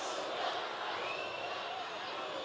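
A Turkish wrestling arena crowd breaks into a storm of applause. It sounds as a steady, dense wash of clapping at moderate-to-faint level, with talk running over it throughout.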